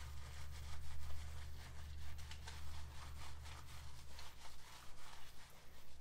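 A slightly damp wheel brush scrubs the brake caliper of a 2019 Subaru WRX STI, giving a steady, close rubbing and scratching that runs throughout over a low mechanical hum.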